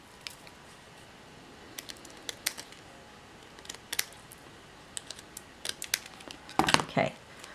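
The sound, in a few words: scissors cutting paper card edge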